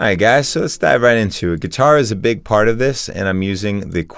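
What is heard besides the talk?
No everyday noises stand out.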